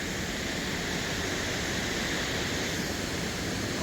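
A forest waterfall near the Austrian border rushes in a constant, broad hiss of falling water, steady and close with no other sounds rising above it.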